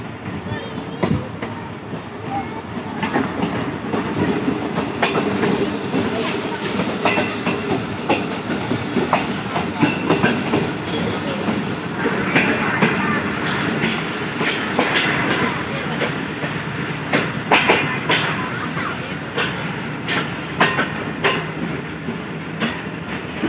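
A train pulls into Lahore railway junction, its steady rumble and rolling clatter filling the scene, with sharper clacks and bangs toward the end. People can be heard talking faintly under the noise.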